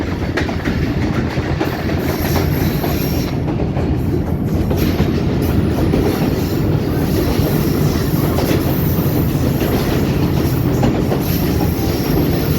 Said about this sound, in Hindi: ये हमारी ट्रेन सुरंग के अंदर चली गई है